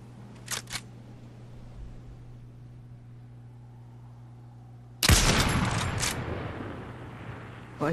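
Gunfire in the Fortnite video game: a quick pair of shots early on, a quiet stretch, then a loud burst of rapid fire that tails off, followed by one more short shot at the end.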